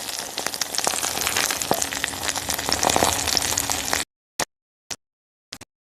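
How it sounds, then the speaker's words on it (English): Food sizzles and crackles steadily on a camp stove at an off-grid campsite, close and continuous for about four seconds, then cuts to silence broken by three brief clicks. "Heard the sizzle. She's starting to sizzle"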